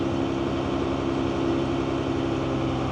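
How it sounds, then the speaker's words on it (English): A JCB Fastrac 3170 tractor's engine holds a steady, raised hum, close and even-toned, with a constant low drone and no voices. "I'm just going to rev up the engine a little bit so you'll hear it."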